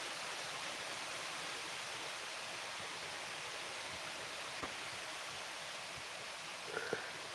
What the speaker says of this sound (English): Yes, you hear the rain?